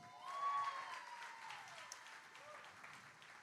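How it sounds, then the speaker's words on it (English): Applause from the audience at a startup awards ceremony in Cape Town, a steady, moderately loud patter of clapping filling the hall, with a few voices mixed in. "please, a bigger round of applause for Nicole Marston."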